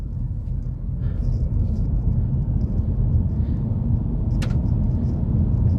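A 2023 MG4 electric car pulls away from a stop with a steady low road rumble and faint motor hum, plus a brief sharp click near the end.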